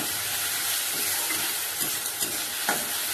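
Spice paste with garlic sautéing in a pan gives a dense, steady sizzle with some stirring scrapes and a few sharper clacks, close and fairly loud without any talking.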